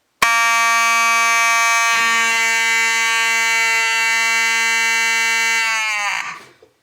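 A fire alarm horn blares one continuous loud, buzzing tone for about six seconds, then cuts off and decays.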